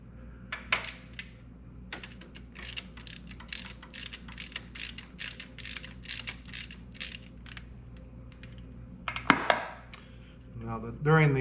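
Metal bolts from a David Brown 880 tractor gearbox and clutch cover are set down one after another, a long run of small sharp clicks and clinks up close, with some rattling near the end.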